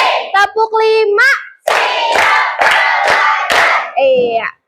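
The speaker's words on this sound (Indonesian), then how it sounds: "Kelas 5, tepuk 1, tepuk 2, tepuk 3, tepuk 4, konsen, tepuk 5." A primary school class of fifth graders claps in a counted chant, sharp group claps in even bursts alternating with children's voices calling out the count, loud and close.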